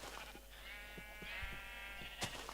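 A Minecraft sheep gives one drawn-out quavering bleat at close range, set against a soft, steady game ambience with no voices.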